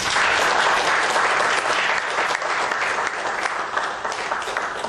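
A lecture audience claps loudly and steadily after a talk by a Korean lawmaker at an economic policy lecture event, dense continuous applause filling the room with no break.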